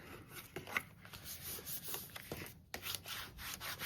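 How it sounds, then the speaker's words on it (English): A paper seam on a handmade 3D star pop-up card is burnished, producing close, quiet rubbing and scraping strokes in quick irregular passes with soft taps, no talking. "Burnish it a little bit."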